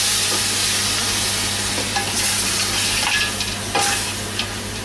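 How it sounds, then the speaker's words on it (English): Onion, garlic, oxtail and tripe sauté in a pan for kare-kare, with a steady broadband sizzle running throughout and occasional scrapes of stirring rising above it. "So, igigisa lang natin ito."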